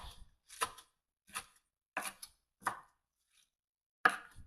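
A knife roughly chops spinach on a cutting board in a loose series of six or seven separate crisp strokes with uneven gaps, close up and fairly quiet.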